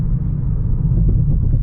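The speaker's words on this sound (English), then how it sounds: "See how the suspension does over the train tracks here" Steady, loud low road rumble inside a 2025 Kia K4 GT-Line Turbo as it crosses train tracks, with a few soft suspension thumps mixed into the continuous drone and no talking.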